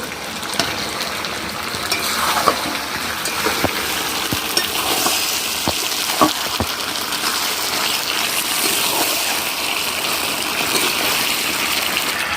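Fried potatoes go into a sizzling village-style country chicken curry whose meat has already been well browned, giving a steady oily sizzle with scattered stirring scrapes and clinks throughout, close and fairly loud.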